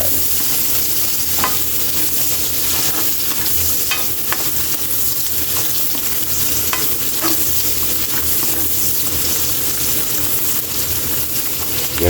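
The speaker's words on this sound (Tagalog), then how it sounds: "Talagang gigisahin lang natin ito Kaylee ng konti yung sitaw natin" String beans sauté in a hot pan with a dense, steady sizzle, punctuated by repeated scraping strokes of a spatula as they are stirred, with no talking.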